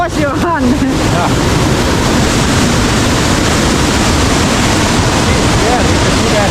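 A hidden Arctic waterfall in Norway, a loud continuous roar of falling water, briefly overlaid by a voice and wind buffeting at the start.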